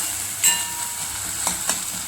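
Onion and tomato masala frying in a pan for an egg dish, a steady soft sizzle with a sharp spoon scrape near the start and two brief stirring clicks later, close and moderately loud, no talking.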